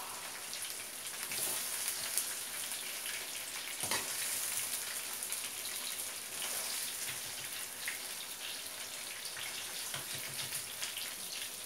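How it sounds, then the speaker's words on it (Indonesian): Barbecue-style tofu fries in a pan of oil, making a steady, fairly quiet crackling sizzle with scattered pops and no voices. "Saya menggoreng tahu, tahunya sekarang ini barbecue tahu ya"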